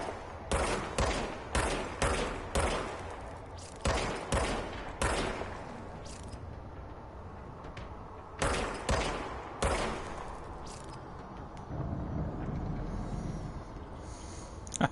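Gunfire in the third-person shooter Control: rapid bursts of shots in two clusters, each a string of sharp, loud cracks with ringing decay, separated by a quieter stretch of ambient game background.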